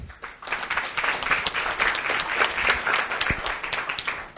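An audience at an education policy lecture applauds steadily to welcome a speaker, a dense clapping of many hands that stays even for several seconds.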